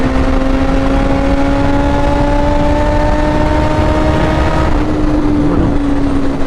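A 1000cc motorcycle pulls hard under throttle with a loud, steady engine whine climbing in pitch, then drops off briefly, buried in heavy wind roar.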